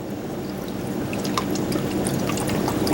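Running water rinses dirt off lettuce roots for a hydroponic setup, a steady close pouring splash with scattered drips throughout.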